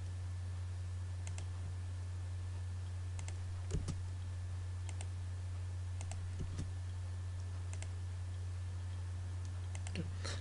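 Typing on a computer keyboard in CAD software, with scattered soft key presses and clicks spread over a loud steady electrical hum and no talk.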